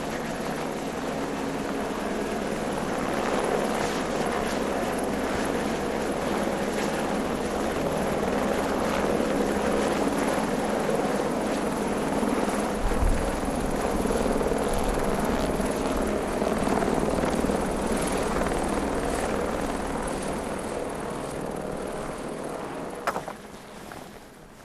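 A helicopter ferrying stones up to a mountaintop in the Black Mountains thrums steadily for the whole stretch, a continuous rotor and engine drone that swells slightly mid-way and fades toward the end.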